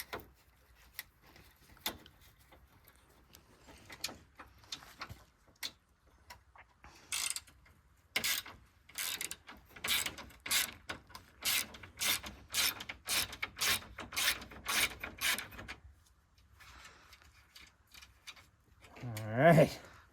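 A ratchet wrench works a spinning nut loose while an awning is installed, giving bursts of quick metallic clicks in short runs with pauses between, fairly faint and without talk.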